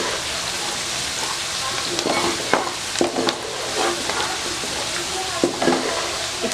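Chopped onion frying in a pan for a bitter gourd and gram lentil curry, a steady soft sizzle with intermittent stirring scrapes and clinks, fairly close, with a little talk.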